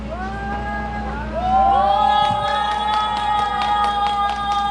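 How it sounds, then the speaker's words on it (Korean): Scattered hand clapping from a crowd at an outdoor Korean protest rally against the national cemetery burial of former staff sergeant Byun Hee-soo, rising midway over a steady tonal hum, with sparse claps continuing to the end. "다시 한번 뜨겁게 박수하겠습니다"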